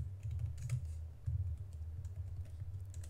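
Quick, steady keystrokes on a computer keyboard while Go code is typed. The clicks are close and continuous, with a low hum underneath and no speech.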